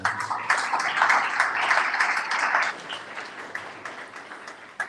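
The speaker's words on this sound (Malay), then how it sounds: "Tepukan untuk guru-guru anda." An audience at a primary school's Year 6 appreciation ceremony claps for the teachers, a lively round of applause that thins out and fades toward the end.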